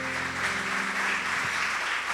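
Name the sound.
congregation applauding in church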